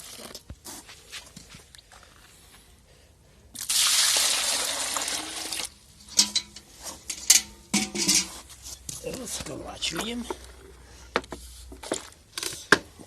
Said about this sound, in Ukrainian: Заливаємо по новому воду